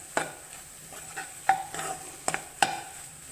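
A utensil scrapes and taps against a pan in a few irregular strokes as egg poriyal is stirred, over a soft, steady sizzle.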